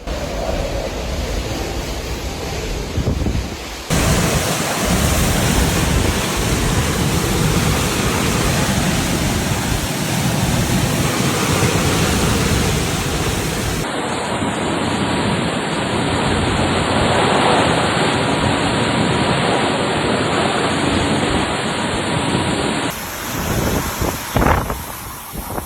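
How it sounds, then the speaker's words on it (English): Typhoon Bavi winds roar in strong sustained gusts with continuous rainfall, a broad loud rushing wash that shifts in intensity across the storm, with no talking. "Strong wind gusts and continuous rainfall created hazardous conditions"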